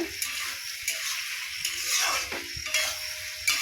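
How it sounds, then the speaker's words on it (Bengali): Shalma frying in oil in a pan, a soft continuous sizzle broken by a few scraping and stirring clatters from the utensil against the pan, close and moderately quiet. "খুব সুন্দর করে সামলাটা ভাজতে হবে"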